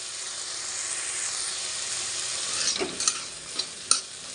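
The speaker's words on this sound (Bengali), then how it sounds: "তো সবজিটা ভাজা ভাজা হোক।" Mixed vegetables and grated ginger fry in oil for poha, a steady close sizzle followed by a few sharp scraping stir strokes near the end.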